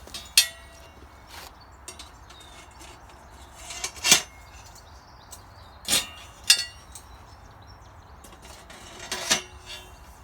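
Metal parts of an outdoor fire pit cooker clink sharply as the sides are slotted into the front, about six bright metallic knocks spaced irregularly over a quiet background.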